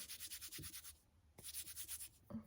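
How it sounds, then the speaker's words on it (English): Hands rub damp felting wool back and forth to shape a needle-felted radish root, making soft rhythmic swishing strokes close up, two quick bursts of repeated rubbing separated by a short pause. "Just kind of rubbing it back and forth until it's the shape that I want."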